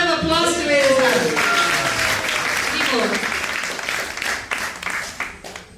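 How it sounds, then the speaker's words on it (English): An audience claps and applauds at a 1995 Vyasa Puja religious gathering in Atlanta, a dense wash of hands lasting several seconds, with voices and cheering mixed in over it. "give a round of applause to Vedasara."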